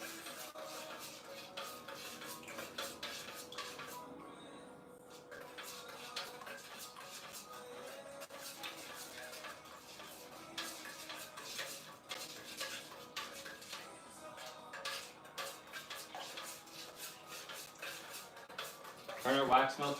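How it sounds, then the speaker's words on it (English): Melted candle wax stirred in a pot, a scraping, clinking utensil against metal running continuously at moderate level, with a person talking faintly at times. "Get this one stirred up too"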